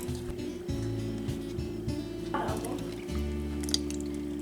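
Heavy cream pours into a pot of oats, milk and water, a near, soft liquid dribble and drip under steady background music.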